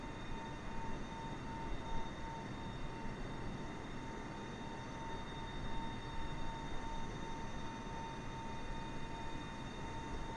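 Steady broadband engine drone of an airplane cruising above the clouds in Microsoft Flight Simulator 2020, a continuous even roar with faint tonal hum, no talk heard.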